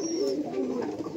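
Pigeons at a pigeon farm give low, throaty coos that roll on continuously, close by and moderately loud, with a faint higher chirp near the start and no talk over them.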